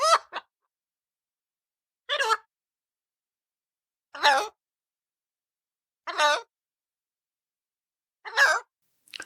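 A pet bird squawks loudly in five short, harsh bursts spaced about two seconds apart, each cry standing alone against silence.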